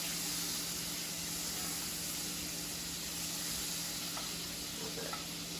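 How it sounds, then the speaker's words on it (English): T-bone steaks sear in a hot pan with butter and olive oil, giving a steady, loud, even sizzle and hiss with a few faint pops near the end. "Hear that sizzling?"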